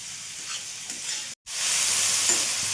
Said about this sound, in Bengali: কিছুক্ষণ নাড়াচাড়া করে একটু ভাজা ভাজা করে নেব